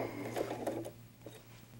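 A sewing machine stitches around the nose of a fabric bunny doll, a soft, steady mechanical whir with faint rapid needle taps, fairly quiet and close, no talking.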